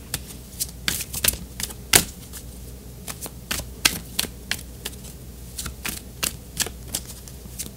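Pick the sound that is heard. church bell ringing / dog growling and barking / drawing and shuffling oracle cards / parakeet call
drawing and shuffling oracle cards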